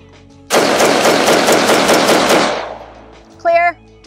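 An LMT MRP rifle fires a fast automatic burst of about a dozen sharp, loud, evenly spaced shots that ring out for two seconds, then decay, followed by a short electronic beep.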